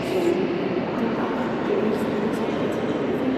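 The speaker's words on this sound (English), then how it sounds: "Look how gorgeous this train station is." Inside a large multi-level train station, a dense constant rumble of trains and hall ambience fills the space, steady and moderately loud with no clear voices.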